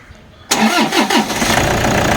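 A 2014 Toyota Innova's engine cranks briefly and catches after a quiet moment, then settles into a loud, steady idle close by.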